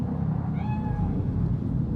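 Cat in the video game Cyberpunk 2077 giving a single short meow, faint over a steady low ambient rumble in Night City.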